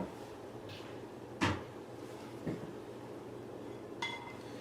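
A plate is taken from a kitchen cupboard and set down, producing a few faint knocks and a sharp ceramic clink, followed by a lighter clink, in a quiet room.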